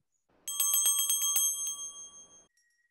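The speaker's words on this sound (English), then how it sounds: "You may also ring the bell." A small bell rings in a quick series of bright, clear strikes, then its tone lingers and fades away; quiet and otherwise still.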